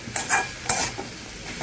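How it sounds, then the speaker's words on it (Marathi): Potatoes with brinjal are stirred in a pan, a few quick scraping strokes of the spatula over a soft sizzle, close and brief with no talking. "परतून घ्यायचे व्यवस्थित."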